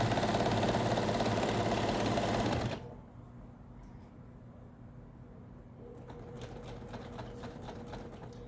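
Sewing machine stitching a bag seam runs loud and steady for a few seconds, then stops abruptly, leaving a quiet room with faint handling sounds.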